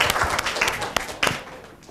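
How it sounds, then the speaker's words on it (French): Brief burst of audience applause on a Christmas Day Caribbean television broadcast, uneven clapping with a few sharper claps, moderately loud and short. "Il faut l'applaudir."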